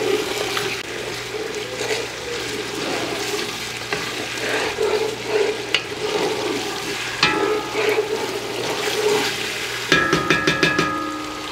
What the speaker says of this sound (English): we're going to add the rest of the green marinade and fry that for about 2 minutes